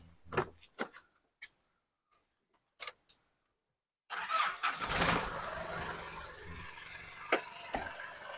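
A few clicks and a short crank come first, then an Isuzu D-Max X-Series 3.0 turbo 4x4 pickup engine starts and settles into a steady, fairly close idle.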